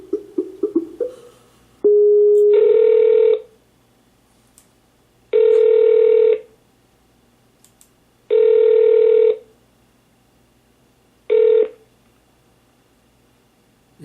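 A telephone ringback tone sounds during an outgoing call, four loud, evenly spaced buzzing rings separated by silent gaps, with brief handling clicks before the first ring.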